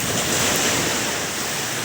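Sea waves below the Kaybiang Tunnel in Ternate, Cavite roar in a steady, loud wash of surf mixed with strong wind buffeting the microphone, continuous and close, with no voices.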